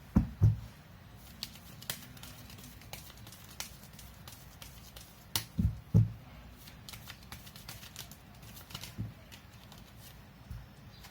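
Tarot cards being shuffled give soft riffling and papery flicks, with a few sharper slaps of the deck in irregular bursts, close and quiet, without speech.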